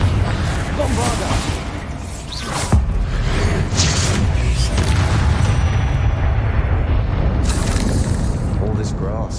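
Spell explosions and blasts in the wizarding video game Hogwarts Legacy, loud booming bursts and whooshes layered over dense combat noise, with a sharp impact near the middle and voices shouting over the action.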